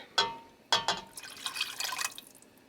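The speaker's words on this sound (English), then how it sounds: "I'm going to be adding 1 cup of chicken broth" Chicken broth poured into a pot of shrimp creole gives two sharp splashes followed by a softer, continuous liquid pour and bubbling, close and fairly quiet.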